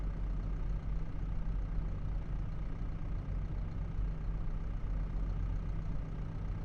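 Video game Fendt 314 Vario tractor idling, a steady low engine drone with a constant rumbling hum and no change in revs throughout.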